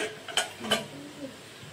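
A lid is set onto a pot of mushroom curry cooking on a stove, giving two close metallic clinks a moment apart, followed by a soft low clatter as it settles.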